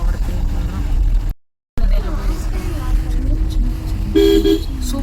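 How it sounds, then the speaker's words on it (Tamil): Heavy road traffic in Tiruchendur, with car horns tooting over a steady rumble of engines; a louder burst of horns comes near the end, and people talk throughout. "திருச்செந்தூர்ல வந்து ரொம்ப டிராஃபிக்கா இருக்குது"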